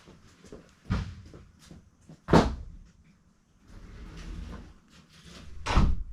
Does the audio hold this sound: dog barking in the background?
no